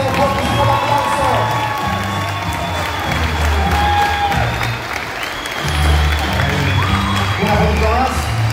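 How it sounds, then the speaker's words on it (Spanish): A large Comic Con crowd in Argentina applauds and cheers loudly for a guest, with whoops and shouts over sustained clapping and a talker's voice mixed in. "fuertísimo el aplauso."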